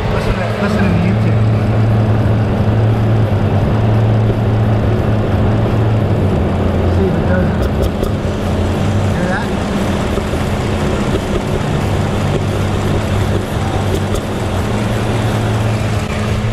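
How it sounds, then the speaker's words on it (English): A 2011 Mercedes engine with a random misfire and intermittent intake suction noise runs as a steady, close, low drone throughout. "Suction noise in the intake intermittently, and that's when the engine shakes."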